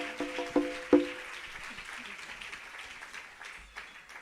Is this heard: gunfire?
no